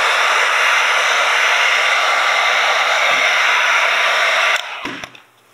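A heat gun blows hot air onto vinyl wrap on a Traxxas TRX4 RC car body. It gives a loud, steady hiss and whine, then cuts off with a click and winds down near the end.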